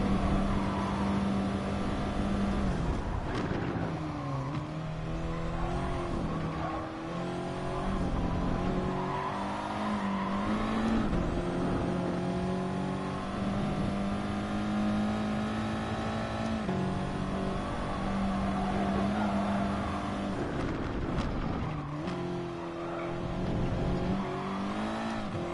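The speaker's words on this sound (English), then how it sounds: "Don't really know where to rev out the car." Audi TT race car in GT Sport revving hard and continuously for the whole run, its engine note rising and dropping with gear changes, with tire squeal and skidding through corners and no talk over it.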